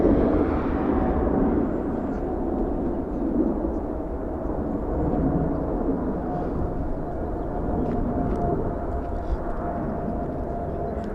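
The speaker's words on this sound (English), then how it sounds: "We have a heavy freighter departing in the south. A 777 DHL." A DHL Boeing 777 heavy freighter taking off from LAX, a deep sustained jet engine roar with a low rumble, steady and moderately distant, with no talking.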